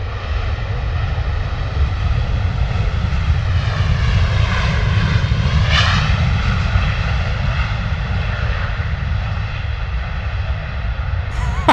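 Ryanair airliner landing at London Stansted Airport, a steady, loud jet roar that swells and shifts in pitch as the aircraft passes, filling the whole stretch without pause.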